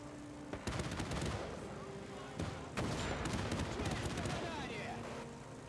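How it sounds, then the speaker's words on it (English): Bursts of machine gun fire from Men of War 2 come in two main volleys, the second longer, as dense rapid crackling against a busy wartime soundscape with distant booms. "No, little machine gun's not gonna hurt me."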